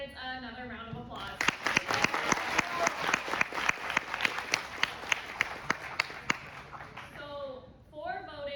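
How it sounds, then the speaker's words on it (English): A room of people applauds steadily for several seconds at an election speech event, with a few distinct close claps standing out, framed by a voice speaking before and after. "Can we please give all the candidates another round of applause?"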